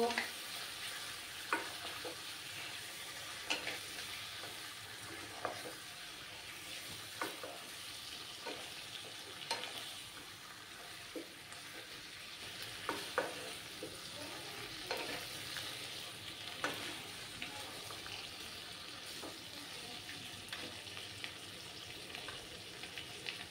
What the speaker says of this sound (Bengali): পরিমাণ মতো হলুদ গুঁড়ো দিয়ে দিলাম, দিয়ে ভালো করে নাড়াচাড়া করে নেব